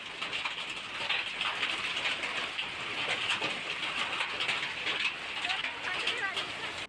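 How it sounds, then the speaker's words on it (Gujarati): Unseasonal rain falls over remote villages of Dediapada in Narmada district, Gujarat, a dense, even hiss of rainfall that continues steadily throughout. "જિલ્લાના ડેડિયાપાડાના અંતરિયાળ વિસ્તારોમાં કમોસમી વરસાદ ખાબક્યો"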